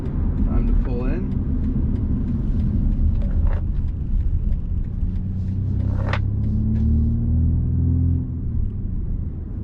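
A 2020 BMW M235i Gran Coupe rolls in slowly, its engine giving a low steady rumble with a few faint higher squeaks above, and someone speaks briefly near the start.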